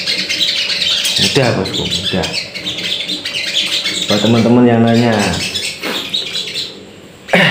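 Sogon birds, being conditioned with nesting material for song competition, chirp and squawk in short bursts close by, often under someone talking.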